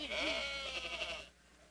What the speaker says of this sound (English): Jabel owned 100 sheep.